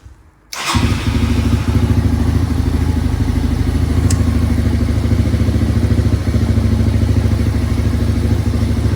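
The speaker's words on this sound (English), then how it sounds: "Here's it starting up with already warmed up a little bit." A 1987 Yamaha Moto 4 200 ATV, already warmed up with the choke off, fires after a short crank and settles into a loud, steady, close putter that carries on evenly.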